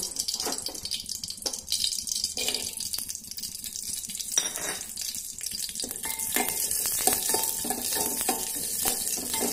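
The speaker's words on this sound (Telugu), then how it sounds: "ఇప్పుడైతే మనం ఈ బాదం, కాజు ఇవైతే ఫస్ట్ డ్రై ఫ్రూట్స్ అయితే వేయించి పక్కకైతే పెట్టేసుకుందాము." Almonds and cashews fry in ghee in a pan for semiya kheer, a continuous close sizzle broken by occasional scraping stirs and light clinks against the pan.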